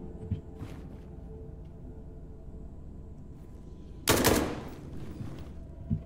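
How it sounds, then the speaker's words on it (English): Heavy gunfire from a machine gun in the horror shooter SCP 5K, a single loud, dense burst near the middle, standing out against a quiet ambient game background. "change to the machine gun"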